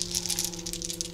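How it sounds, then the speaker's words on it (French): White dice rattle briskly in a cupped hand or cup during a Lord of the Rings board game, a steady near clatter with no talk. "Les dés blancs,"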